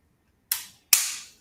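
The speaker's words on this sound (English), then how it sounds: "The ratchet to me is one of the most rewarding parts because not only does it sound really good" Micro Galaxy Squadron toy ship parts make two sharp ratcheting clicks about half a second apart, close and crisp, each decaying quickly, with no talk.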